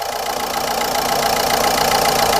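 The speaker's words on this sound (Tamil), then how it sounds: "இப்போ பார்த்திங்கன்னா இன்ஜின் ரன் ஆகிட்டு இருக்குங்க. இன்ஜின் சவுண்டு பாருங்கள்." A used Ford Ikon car engine idling at steady speed, a loud, continuous hum with an even, slightly rough mechanical rattle and no voices over it.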